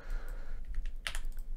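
Clicking keystrokes on a computer keyboard come in a sparse few taps, then a quicker cluster of sharper, closer strikes near the end, with no talking.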